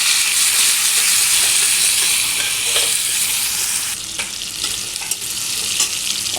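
Chopped tomato hits a hot tempering of spices fried dark in oil for Bengali chana dal, setting off a loud, steady close-up sizzle with brief spits and crackles as it settles.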